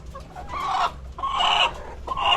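Chickens cluck loudly in three bursts, close by in their coop, with a rooster-like call mixed in and no talking.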